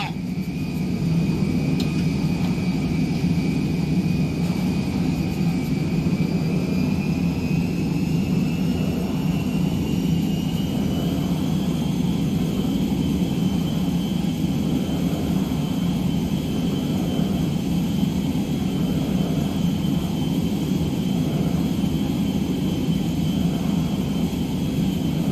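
Jet aircraft flying in the video game GTA 5, a loud steady engine roar with a thin high whine that slowly climbs in pitch, holding constant for about twenty-five seconds with no talk.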